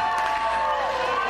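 A large crowd cheers and applauds at an election victory rally in Kaohsiung, a steady, dense roar filling the whole moment, with a voice rising faintly above it.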